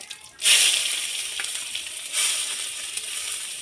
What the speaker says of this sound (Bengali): পেঁয়াজ কুচি একটু ভালো করে ভেজে নেবো